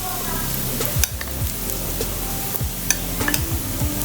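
Coriander powder fries in hot oil in a pan with Kashmiri chilli powder while being stirred, giving a steady close sizzle broken by a few light scrapes and clicks of the spoon.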